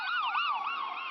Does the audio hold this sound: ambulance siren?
yes